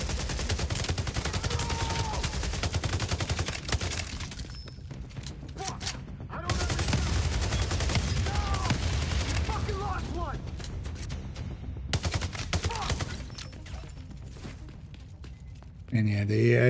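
Bursts of automatic gunfire rattle through a mobile Division-style shooter, sustained volleys broken by brief pauses, with a voice talking over the shooting.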